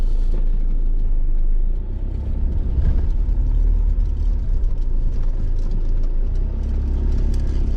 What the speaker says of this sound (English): I'm quite good at driving this Transit van, you know.